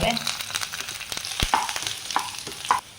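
Chopped coconut fries in hot oil with ginger and garlic, a dense crackling sizzle broken by repeated sharp clicks and scrapes of a spoon stirring against the pan.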